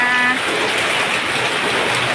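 Steady rain falls at a garden home beside a canal, a dense, even hiss throughout, with a faint voice briefly audible at the start.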